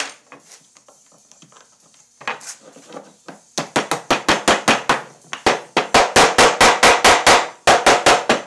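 A wooden mallet head is hammered onto its handle: a few light taps at first, then a fast run of sharp, loud, evenly spaced knocks of wood on wood, close by and without speech.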